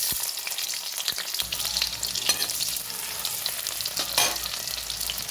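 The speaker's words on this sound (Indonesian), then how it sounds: "Ini aku udah panaskan minyak ya, kemudian aku masukkan itu guys, bawang bombay-nya dulu" Onion hits hot oil in a frying pan and crackles into a lively, close sizzle, with stirring scrapes and a couple of louder bursts, no one speaking.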